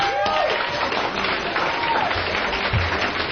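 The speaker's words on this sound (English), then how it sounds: "thank you for that smattering of applause" Sparse audience applause greets a performer walking onto a radio show stage, a thin patter of clapping lasting a few seconds, with faint crowd noise and a brief whoop.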